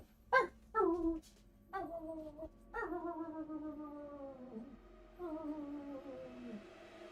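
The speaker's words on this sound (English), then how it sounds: "let me just bring my puppy" A puppy whimpers and whines indoors in a series of high, drawn-out cries, some short and some long sliding tones, fairly faint and close with no talk over them.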